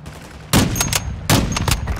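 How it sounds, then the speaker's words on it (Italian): Two loud bursts of automatic gunfire in Call of Duty: Modern Warfare II, each a rapid rattling volley lasting about half a second, set against quieter game ambience. "A chi spari, Simone?"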